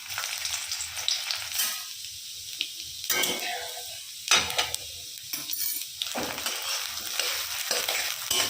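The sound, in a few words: chopped ginger and garlic frying in hot oil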